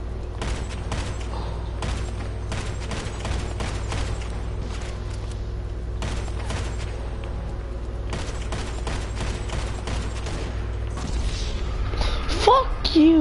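Heavy sniper rifle fire in GTA 5: bursts of rapid, repeated loud cracks in clusters over a constant low hum, with some voice sounds near the end.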